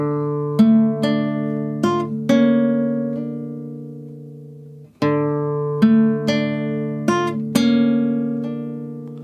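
An acoustic guitar in standard tuning plays the opening line of the Gaunter o' Dimm theme from The Witcher 3, with ringing plucked notes and sustained chords, a phrase played twice, clear and close with no talking.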